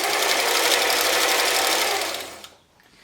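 A German-made Singer 720 sewing machine running fast while winding a bobbin, a loud even whirring hum close by that winds down and stops near the end.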